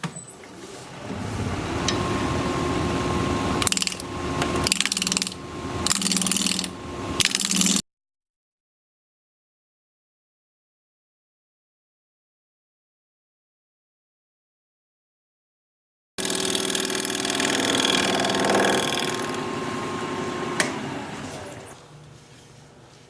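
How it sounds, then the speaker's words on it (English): Wood lathe turning a hawthorn bowl with a bowl gouge, a steady rough scraping and cutting drone with shifting texture, broken by a long silent gap before the cutting resumes. "we'll get to turning this hawthorn bowl"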